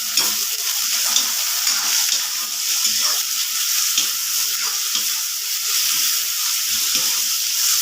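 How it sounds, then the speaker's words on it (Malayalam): Sliced onions and curry leaves fry in a hot pan until they brown, giving a loud, continuous, close sizzle with faint stirring scrapes and no talking over it. "കറിവേപ്പില ഇട്ടു സവാളയും കൂടി ഇട്ടിട്ട് നന്നായിട്ടൊന്ന് ബ്രൗൺ കളർ ആകുന്നത് വരെ"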